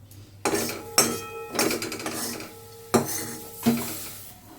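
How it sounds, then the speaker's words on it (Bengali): Spice paste is scooped into a mixing bowl with a spoon, making several distinct clattering knocks and scrapes of metal on the bowl in uneven bursts, close and fairly loud. "এই আমার মিক্সিং বোলে এটা আমি তুলে নিলাম।"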